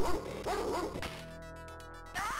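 Short yapping barks from the dog enemy in Earthworm Jim on the Sega Mega Drive/Genesis, two quick bursts at the start over steady game music, then music alone.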